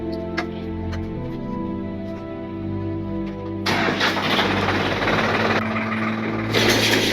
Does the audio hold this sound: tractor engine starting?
yes